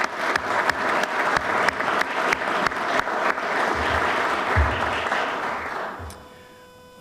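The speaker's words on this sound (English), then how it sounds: "I'd like to ask you all to join me in a brief round of applause for Sergeant Major Nunez." An audience at an Army Soldier Recovery Unit change of responsibility ceremony at Fort Campbell claps together in a brief, steady round of applause that fades out at the end.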